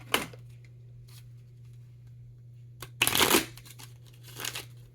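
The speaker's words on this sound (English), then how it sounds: "Let me shuffle now." A deck of playing cards is shuffled on a desk: a quick riffle at the start, a quiet pause over a low steady hum, then a louder riffle and bridge, and a softer riffle at the end.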